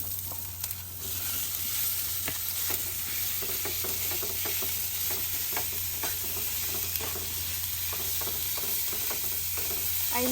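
Garlic frying in hot oil for homemade lumpia in a home kitchen in the Philippines: a steady, dense sizzle with faint scattered stirring scrapes, continuous throughout and heard alone.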